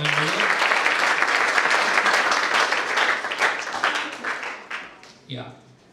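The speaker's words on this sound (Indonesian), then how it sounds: "Mari kita berikan tepuk tangan dulu." Students at SMA Kristen Pandega Jaya applaud together in a school hall, a dense, loud burst of many hands clapping that fades out near the end as a voice begins.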